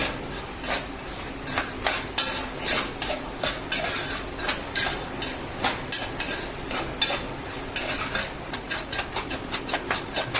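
Peanuts stirred and roasted in hot salt in a pan, producing a steady run of gritty scraping and rattling strokes, close and fairly loud with no talk.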